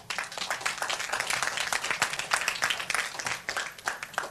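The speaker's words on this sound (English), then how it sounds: "a big round of applause to all of us." An audience at a vegan community anniversary celebration claps in a dense, steady round of applause that fills the whole stretch without voices over it.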